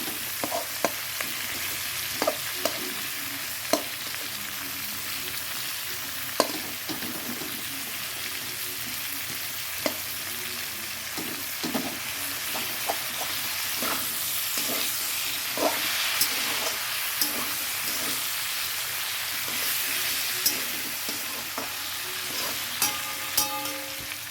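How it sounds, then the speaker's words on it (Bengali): Chopped tomato fries in a pan with a steady low sizzle, broken by frequent spatula knocks and scrapes at an uneven pace, fairly close with no talking. "টমেটোটা কুচিয়ে দিলাম দেখো"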